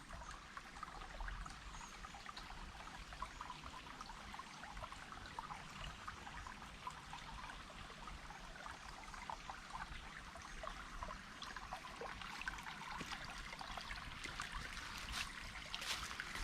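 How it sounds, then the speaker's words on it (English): Natural stream water trickling and babbling steadily outdoors, a continuous gentle wash of flowing water with no voices, moderately near and even in level throughout. "So peaceful. Just the sound of that water."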